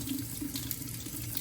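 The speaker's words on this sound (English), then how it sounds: "we're just gonna rinse all of that soil off and really inspect those roots" Tap water runs steadily over potted plant roots to rinse soil off, a continuous soft hiss and splash from a faucet, fairly quiet and close, with no voices.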